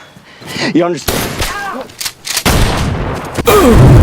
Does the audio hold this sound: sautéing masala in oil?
no